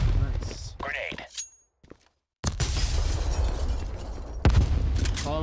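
A grenade blast in a competitive multiplayer shooter match, a loud close boom that bursts in after a brief silence and rolls on as dense rumbling debris and gunfire, with a second heavy hit near the end.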